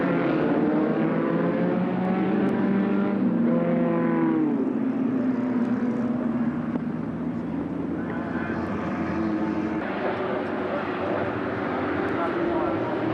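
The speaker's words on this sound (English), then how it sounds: "Cars being sent off on their green flag lap." Volkswagen Beetle Cup race cars roll away on a dry circuit for the green flag lap, their engines a continuous rumbling drone beneath steady commentary throughout.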